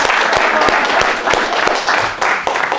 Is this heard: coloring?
no